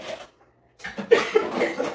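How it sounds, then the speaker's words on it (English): A person coughs after swallowing wrong, giving a short, harsh burst and then a couple of quick follow-up coughs after a brief silence, close and clear. "That is just I swallowed wrong cough."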